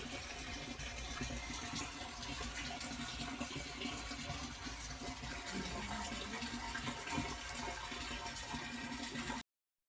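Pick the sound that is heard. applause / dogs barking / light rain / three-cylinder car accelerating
light rain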